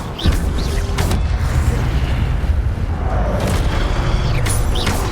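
Fiery Incendio spell cast in the video game Hogwarts Legacy, a loud sustained roaring whoosh of flame with bursts of crackling, heard alone without talk.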